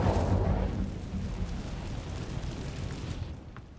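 An Incendio fire spell is cast near an Acromantula cave in Hogwarts Legacy, with a loud whooshing burst at the start that fades into a low crackling roar and tails off to quiet.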